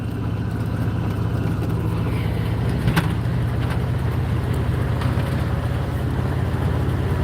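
An old Ford truck rolls slowly along a road, its engine a steady low drone with road and wind noise throughout and a brief knock partway through.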